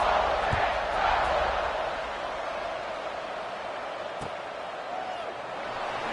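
A large football stadium crowd roars during a college game kickoff, a broad, sustained wash of cheering that is loud at first and then settles to a steady distant rumble.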